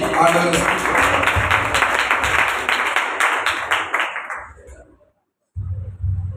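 A church congregation claps hands for about four seconds in a loud burst that thins out and stops, with a voice speaking over it and again briefly after the clapping ends.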